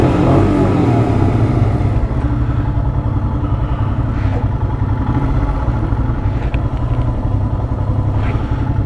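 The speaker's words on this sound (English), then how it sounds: "Whatever that bike sounds like." Royal Enfield Himalayan motorcycle engine running steadily and loud throughout, a constant low rumble with some mechanical clatter while riding an off-road mountain trail.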